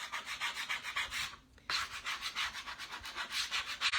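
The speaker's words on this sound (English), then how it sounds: "So I'm just scraping it, kind of like when you scrape ice off your windshield" Scraper rasping teal paint off wooden furniture in quick, rhythmic strokes, close and steady, with one brief pause partway through; no voices.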